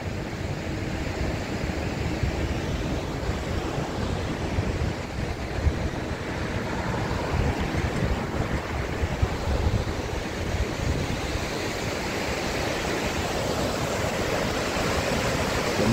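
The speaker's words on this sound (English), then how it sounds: "Mighty Genesee River." Steady broad rush of the Genesee River flowing through Rochester, heard from above as continuous loud water noise with some wind, unbroken for the whole stretch and without voices.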